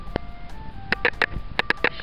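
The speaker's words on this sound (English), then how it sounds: "Oh, that's my alarm." An alarm going off in a short run of bright, repeated electronic tones that come in rapid bursts and stand clearly above a low background hum.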